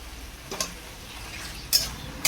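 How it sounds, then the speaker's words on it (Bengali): Mutton pieces dropped into a pan of frying masala with yogurt, giving soft sizzling and a few sharp clatters of pieces and utensil against the pan. "এখন আমি দিয়ে দিচ্ছি মটনগুলো, দিয়ে মশলার সাথে ভালো করে কষিয়ে নেব।"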